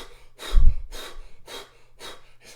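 A voice imitates heavy panting after a sprint, five or six rhythmic breath bursts in and out, close and loud, the first with a deep throaty gasp.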